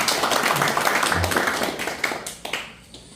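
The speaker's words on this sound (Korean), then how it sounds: "여러분 큰 박수 한번 부탁드립니다" Applause at a clan association board meeting. Scattered clapping fades out over about three seconds, with individual claps standing out and some voices underneath.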